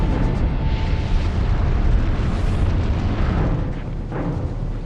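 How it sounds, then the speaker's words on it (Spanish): An asteroid airburst explodes in the sky over Tunguska, a dense, sustained roaring blast with deep rumbling that rolls on for several seconds and eases slightly at the end. "Cree que un asteroide estalló en la atmósfera, causando una explosión devastadora en el cielo de Tunguska."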